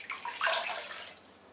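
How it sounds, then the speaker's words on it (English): A short burst of cold tap water splashes and runs over a cloth held beneath the faucet, close and soft, lasting about a second. "I finish with putting the cloth under really cold water"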